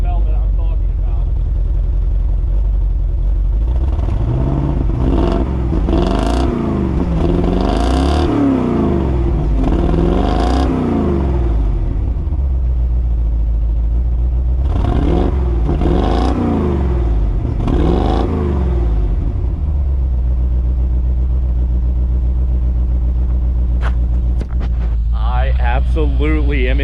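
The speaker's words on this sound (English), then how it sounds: "I gotta rev it and get you guys a sound clip" A 1980s C4 Corvette V8, freshly fitted with a new battery, idles and is revved several times in bursts, the engine note climbing and falling loudly and close.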